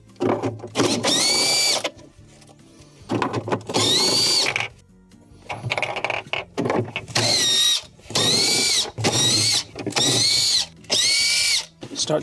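A power driver with a 1/4 inch bit backs screws out of the evaporator cover in a Whirlpool refrigerator's fresh food section. It makes loud, close whirring bursts of one to two seconds, about eight in a row, separated by short pauses.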